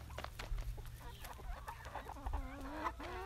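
A small flock of backyard chickens clucks and murmurs continuously at close range, with overlapping short calls and rising squawks over faint outdoor background noise.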